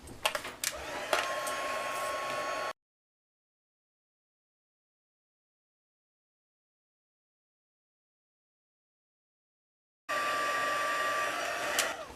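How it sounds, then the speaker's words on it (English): A craft heat tool blows steadily while heat-setting embossing powder, a loud, even hair-dryer-like whoosh that runs for a few seconds, cuts out, then resumes. "Okay, now we're going to heat set that."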